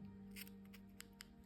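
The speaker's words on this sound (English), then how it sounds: "Take your scissors and cut it." A few crisp, quiet snips of scissors cutting yarn, spaced irregularly over a low steady hum, with no talking.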